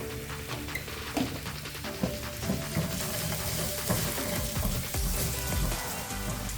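Garlic frying in a pan until reddish, a steady crackling sizzle with occasional scrapes and stirring knocks, close and continuous with no voices.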